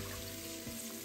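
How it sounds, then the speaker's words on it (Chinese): Water pours steadily into a pan of sauce, a soft, quiet trickle heard alone and close by. "另多加300毫升清水"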